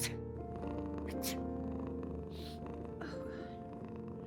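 A cat purring in the video game Before Your Eyes, a steady low rumbling purr running continuously under faint background music with a couple of brief higher rustles.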